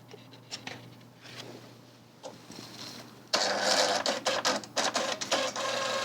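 A 41-year-old HP ThinkJet 2225A inkjet printer runs its self-test, a quiet buzzing of the print head that gives way to louder, rapid chattering bursts as printing begins, close and continuous with no talk.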